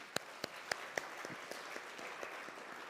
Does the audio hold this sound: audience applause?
yes